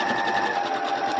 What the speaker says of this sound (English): Put your presser foot back down and continue sewing.